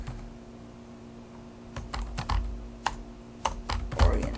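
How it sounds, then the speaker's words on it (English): Typing on a computer keyboard while entering letter text in a word processor: a soft irregular patter of key clicks that grows busier toward the end, close and alone over a faint steady hum. "we're going to start typing the text that goes below the table in the letter"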